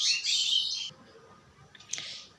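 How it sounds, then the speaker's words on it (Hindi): Birds chirp and tweet around a house surrounded by many trees, a burst of bright calls at the start and another short flurry near the end, otherwise quiet. "थोड़ा सा चिड़िया वगैरह सबका आवाज़ आ रहा है"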